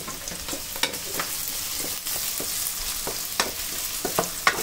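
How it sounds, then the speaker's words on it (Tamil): Onion, garlic and curry leaves sautéing in a pan for garlic kulambu, a steady close sizzle with repeated scraping stir strokes and no talk. "கருவேப்பிலையும் போட்டு நல்லா வதக்கிக்கோங்க"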